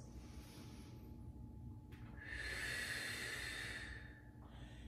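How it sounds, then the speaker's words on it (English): Deep exhaled breath during a chair Pilates workout on a Pilates box, a soft airy rush that swells near the middle and fades out, heard close over a low steady room hum. "Exhale, scoop and pull it back up. Taking those big breaths."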